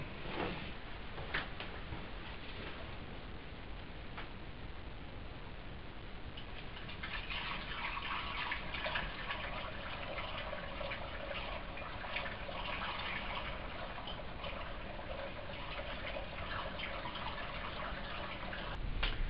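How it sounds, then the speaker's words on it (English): Liquor pours into a small oak keg charred on the inside, making a continuous trickling, splashing liquid sound that runs steadily for a long stretch, close by with no talking. "So all you do is pour your liquor into it and let it sit."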